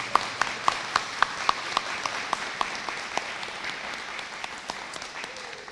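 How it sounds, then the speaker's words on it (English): Audience applause at a TCPS swearing-in ceremony: a few crisp, close claps in an even rhythm stand out over faint scattered clapping, the sharp claps stopping after about three seconds while soft applause lingers. "Would you please join me in a round of applause and applauding them for their accomplishments."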